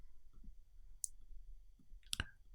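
Sparse computer mouse clicks while working on detail areas of a digital painting in Photoshop: a couple of quick, close, quiet clicks, one isolated and a pair near the end, over faint background hiss.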